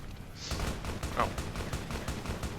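Rapid bursts of gunfire in Fallout New Vegas, a dense steady volley of shots across the whole moment at moderate loudness with game ambience underneath and no talking.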